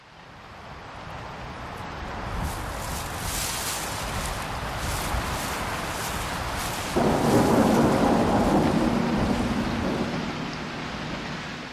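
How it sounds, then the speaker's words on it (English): Steady rain hisses throughout on the Hungarian puszta, thickening partway through into a heavier, louder downpour, with a low rumble underneath. "The rain begins reluctantly, with no sign of the coming cloudburst."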